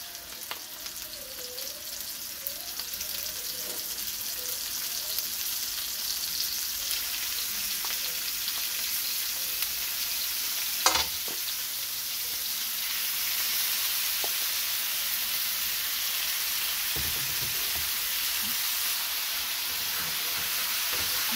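Beef pieces cut from prime rib frying in a pan with browned aromatics, a steady close sizzle and hiss running throughout with a few faint stirring clinks, no talk over it.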